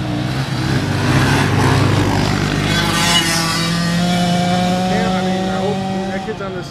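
A motorcycle engine revving hard during a wheelie at a Labor Day weekend gathering, a loud close roar that rises and holds in pitch with people talking over it.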